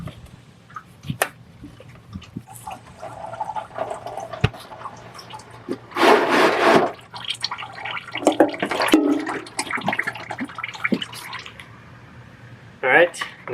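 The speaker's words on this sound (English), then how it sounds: "I would put a pan under it because it's probably gonna leak some oil here." Oil drips and trickles from the filter mount of a 1987 Ford F-250 after the old filter is pulled off, with scattered close drips and a brief louder splashing burst into a drain pan; background hum throughout.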